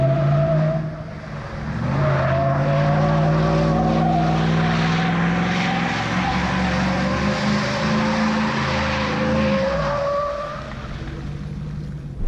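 A Chevrolet Suburban doing donuts in an industrial park, its engine roaring loud and steady at high revs with wavering pitch, tires squealing and skidding throughout, easing off near the end.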